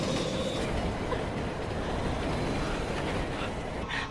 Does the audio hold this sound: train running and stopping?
yes